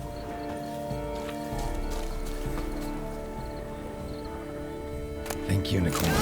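Roach, the horse in The Witcher 3 video game, gives a whinny while hooves clip-clop under steady game music and ambience, with a louder burst of movement near the end.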